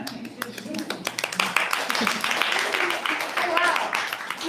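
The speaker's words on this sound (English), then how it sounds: "you gotta love some applause before it starts" Audience clapping at the start of a live travel event, a steady wash of many hands with some voices mixed in throughout.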